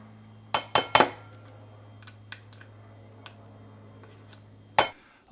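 Tuna salad ingredients mixed in a bowl, a quick burst of three clinks and scrapes, then scattered faint taps and another clatter near the end, with a steady low hum behind.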